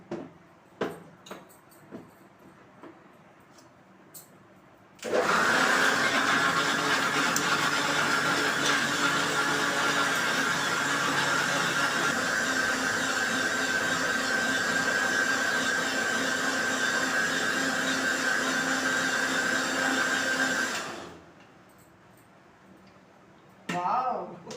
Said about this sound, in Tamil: இப்போ மிக்சியில் போட்டு நம்ம அதை மூடி போட்டுக்கிறோம்